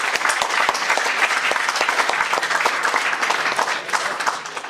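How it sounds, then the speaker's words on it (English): A crowd at a Model United Nations event in Chitwan applauds, dense continuous clapping with sharp individual claps, steady and loud throughout. "A big round of applause for MUN Chitwan and Youth Thinker Society for all the hard work and effort,"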